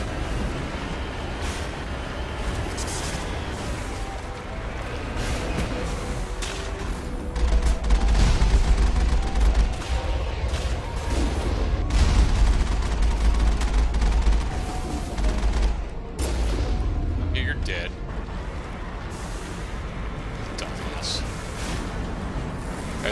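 Gunfire and explosions from the Mass Effect video game, with a dense barrage and heavy low booms rising in the middle of the stretch over steady game noise. A voice talks along throughout.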